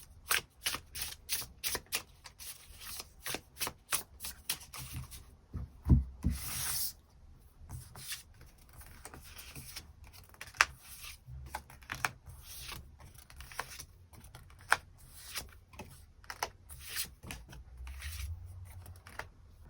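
Tarot cards are shuffled and drawn in repeated crisp flurries of riffling and slapping, close and dry, broken by short pauses and soft rubbing, with no talking.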